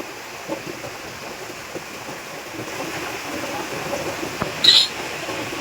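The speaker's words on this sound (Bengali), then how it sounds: "কত জোরে বৃষ্টিটা নেমেছে গো বন্ধুরা" Heavy rain pours steadily at night outside a home in Bengal, a dense, even hiss of falling water with a brief brighter patter near the end and no talk.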